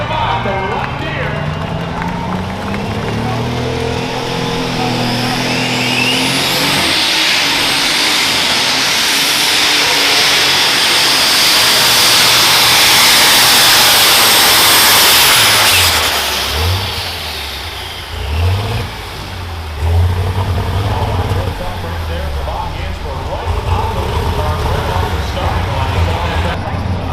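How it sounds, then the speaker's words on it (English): John Deere unlimited super stock pulling tractor at a county fair tractor pull, its engine winding up into a loud roaring scream that holds, then drops with revving bursts, heard alongside an announcer's voice and crowd noise. "Listen to this engine as he winds it up."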